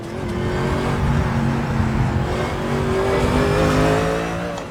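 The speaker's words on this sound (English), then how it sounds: "the engine notes are very, very rich" A 2020 Mercedes-AMG GT3 race car engine in a video game revs hard and continuously, its rising and falling tone loud and close with a rich, layered growl throughout.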